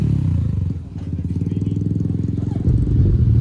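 A heavy G 900 motorcycle engine throbs with a fast, even pulsing beat close by, then its note thickens as it revs near the end, with no voices.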